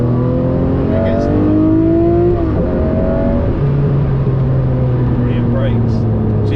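Lamborghini Murcielago LP670-4 SV V12 pulls hard in second gear, a loud, steady rising engine drone with a gear change partway, heard from inside the car while someone talks over it.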